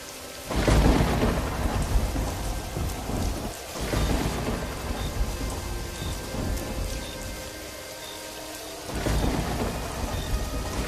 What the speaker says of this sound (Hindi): बिजली की तेज गड़गड़ाहट और बारिश की आवाज से रामलाल की आंख खुल जाती है